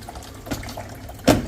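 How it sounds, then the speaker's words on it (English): Water trickles through a Vaillant boiler that has a water pressure problem, with the pressure reading at zero. A faint, steady trickle runs throughout, with a brief louder gush near the end. "the water is just trickling through"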